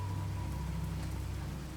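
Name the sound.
rain falling in the video game Minecraft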